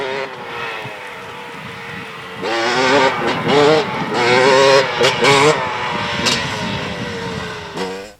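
A 2017 KTM 300 XC two-stroke dirt bike rides a tight trail, its engine revving and dropping in repeated bursts as the rider works the throttle, close and loud throughout.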